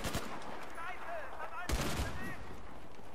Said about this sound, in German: Ich hab geschossen